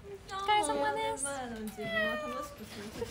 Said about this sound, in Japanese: 猫ちゃん、 猫ちゃん、